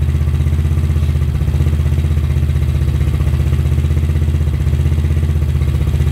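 A Honda ADV 150 scooter engine idles after a cam install, a loud steady close-up drone with an even mechanical pulse and no change in pace.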